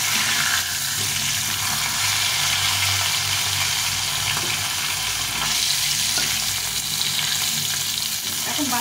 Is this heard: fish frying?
yes